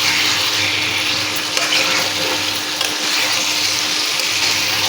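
Mutton and potatoes are stirred in plenty of hot oil, giving a loud, continuous sizzle and frying hiss with a faint scrape of the spoon through the pot.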